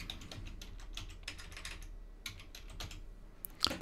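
Fast, irregular typing on a computer keyboard, keys clattering in quick bursts with short pauses, close and fairly quiet, no voices.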